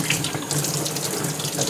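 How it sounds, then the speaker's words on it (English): Running tap water rinses WD-40 and oil off a metal gun part at a sink, a steady splashing wash that holds close and constant throughout. "just kind of let the water, you know, rub it up, wash it off"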